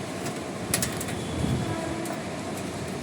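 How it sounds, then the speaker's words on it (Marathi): A train rumbles past near a station during a windy rainy spell, a steady low mechanical roar with faint rhythmic clatter and a few sharp clicks, heard from some distance with no voices. "तुम्हाला ट्रेनचा आवाज येत असं"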